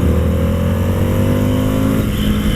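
An Indian FTR 1200 motorcycle's big V-twin engine accelerating, a loud close throbbing drone with the pitch steadily rising, then easing near the end.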